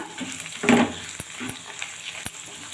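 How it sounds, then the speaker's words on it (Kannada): Green chillies and ginger fry in a pot for chicken curry, a light sizzle with one louder burst of spattering and a few sharp clicks of a utensil, close and brief. "ಹಸಿಮೆಣಸಿನ್ಕಾಯಿ ಹಾಕುವ ಶುಂಠಿ ಚೆನ್ನಾಗಿ ಸ್ವಲ್ಪ ಫ್ರೈ ಮಾಡ್ಕೋಬೇಕು ಇದನ್ನು"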